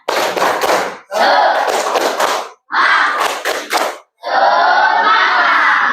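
A classroom of students performs the 'tepuk semangat' clapping chant, bursts of rhythmic group clapping and shouted chanting in short phrases separated by brief pauses, ending on a longer sustained shout.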